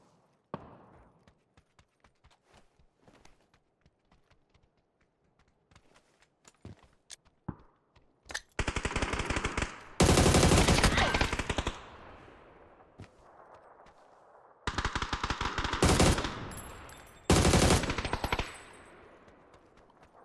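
Gunfire in PUBG: scattered distant shots and footsteps, then several loud, close bursts of rapid automatic fire separated by short pauses.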